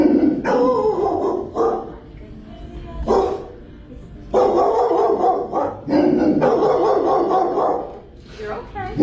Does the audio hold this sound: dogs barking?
yes